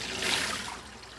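Rinse water poured off a pot of sushi rice (shari) after the first cold-water wash, a soft steady watery rush that swells briefly then thins toward a trickle, close and fairly quiet.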